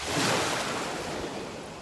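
Ocean waves on a beach, a broad rushing wash of surf that swells in the first moment then settles into a steady roar mixed with wind buffeting the microphone.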